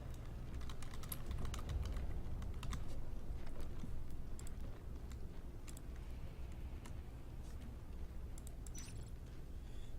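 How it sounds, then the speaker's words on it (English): Rapid, continuous clicking of a computer keyboard as someone types out a tweet during a Natural Selection 2 match, heard fairly faintly and without speech. "This is the longest typing of a tweet ever."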